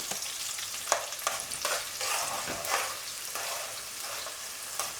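Ingredients for vegan efo elegusi, including iru and onions, sizzle and fry in a pan with irregular stirring scrapes and clatters, steady and close with no talk.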